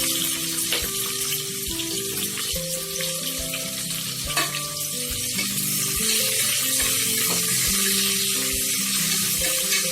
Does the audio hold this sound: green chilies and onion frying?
yes